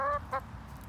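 Two short, close clucks from a chicken digging in a block of dirt for worms, a quick pair of bright calls over a low, quiet background rumble.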